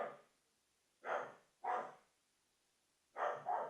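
A dog barks indoors at someone at the door, giving four short barks in two spaced pairs, fairly clear against a quiet room, with no talking.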